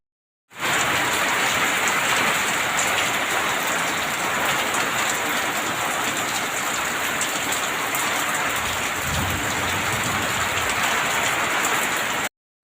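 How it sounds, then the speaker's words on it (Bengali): Heavy rain pours down steadily, a loud, dense hiss of drops on surfaces that continues evenly throughout with no voices. "দেখতে পাচ্ছ কি পরিমাণ বৃষ্টি হচ্ছে"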